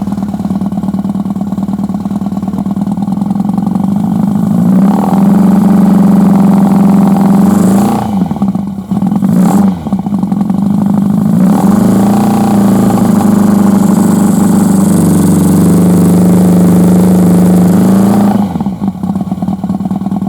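A BMW 1100G motorcycle engine idling in cold conditions, a loud steady low throb that runs almost continuously with brief dips and a slightly uneven, choking rhythm.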